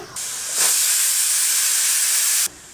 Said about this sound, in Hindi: कुकर में सीटी आने में 6 मिनट का टाइम लगा है।